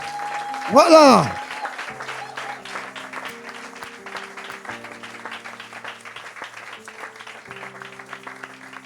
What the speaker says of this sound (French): Acclamons pour cette parole.